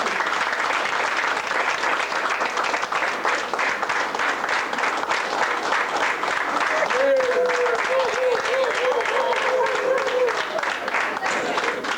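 Crowd applauds during a trophy presentation at a swing dance night, a continuous loud roar of clapping lasting the whole stretch, with voices and a brief sustained tone rising over it partway through.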